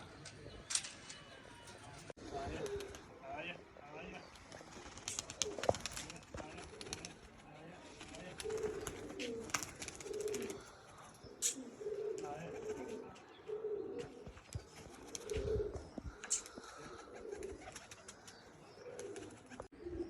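Pigeons coo in a soft, repeated rhythmic series mid-clip, fairly near, with scattered chirps, rustling and quiet background voices.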